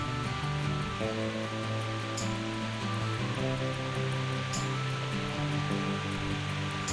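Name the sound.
waterfall at a resort swimming pool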